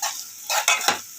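Asafoetida sizzles in a pan while being stirred, with a few short bursts of sizzling and scraping of a utensil, close and fairly quiet.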